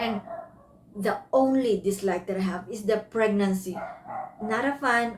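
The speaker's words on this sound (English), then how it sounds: "I have to end the video because the dogs are barking" Dogs bark at home in short intermittent bursts, heard in the background beneath a person talking steadily in the foreground.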